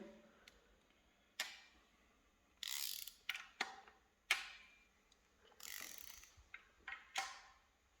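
Intermittent ratchet clicks and metallic clacks from bolts being loosened on a Subaru EJ25 boxer engine, close but fairly quiet, in separate bursts with pauses between.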